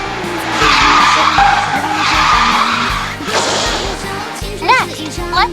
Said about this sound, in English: A braking drift is when the brake button is pressed to reverse the trajectory of a drift